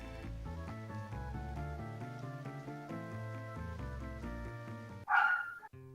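A dog gives a single short, sharp bark in Final Fantasy IX, coming in loud and abrupt right after a stretch of steady, gentle melodic game music fades out.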